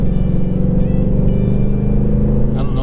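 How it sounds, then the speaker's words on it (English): Stock exhaust of a 2020 Ford Mustang GT V8 with manual rev matching, sounding a steady, loud, deep rumble that rises slightly as the engine blips during a downshift, heard close from inside the car. "the stock exhaust on these cars is amazing"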